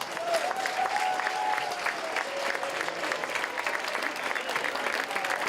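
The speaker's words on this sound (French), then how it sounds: "on devrait l'accueillir avec un énorme applaudissement, Madame Marie-Paul Fournier." Guests at a volunteer recognition gala in Grande-Rivière applaud to welcome an honoree, a steady, moderately loud clapping from a sizable crowd with a faint tone running underneath.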